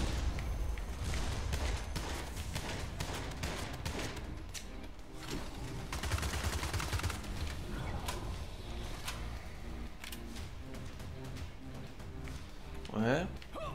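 Bursts of video game gunfire, including submachine gun shots, crack repeatedly through a busy, dense game soundscape while a player talks over it.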